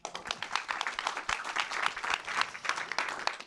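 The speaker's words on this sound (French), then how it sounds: "On peut l'applaudir." Audience applause at a conference, dense and steady clapping from a crowd that fills the moment at close range, with no voices over it.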